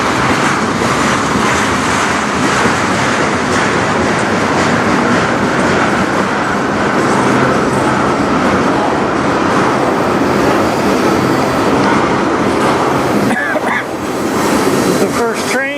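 A CN freight train passes close by in Sarnia, Ontario, filling the air with a loud, continuous rumble and rattling wheel clatter of wagons rolling past without a break.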